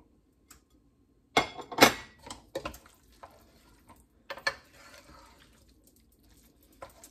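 Spoon stirring pasta and shrimp together in a pot for Cajun shrimp pasta, producing several short bursts of scraping and wet clattering with quiet gaps between them and no talking.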